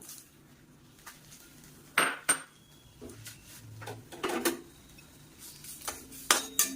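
Curry leaves dry roast in a pan for idli podi, with sharp spatula clinks and scrapes against the metal coming at an irregular pace over a quiet background.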